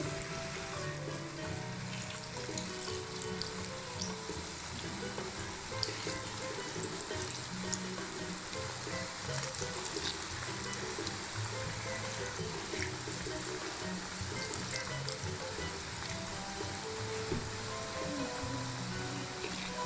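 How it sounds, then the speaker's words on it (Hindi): Potato chips for French fries bubbling and hissing in hot oil, a steady dense crackling sizzle that carries on unbroken throughout, close and fairly loud. "अब हम इसको ऑयल में फ्राई करेंगे।"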